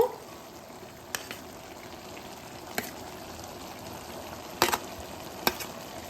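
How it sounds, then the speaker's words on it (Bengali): Fried potato stirred into bottle gourd curry simmering in its own released water, with no added water: a faint, steady low sizzle and hiss broken by a few sharp spoon clinks against the pan, no talk. "একটু নাড়িয়ে নিই, মিশিয়ে দিই এটা আলুটা লাউয়ের সঙ্গে"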